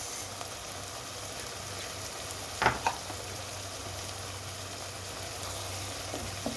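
Onion and tomato paste fry quietly in a pan, a faint steady sizzle with a couple of brief clinks of a utensil partway through, no voices.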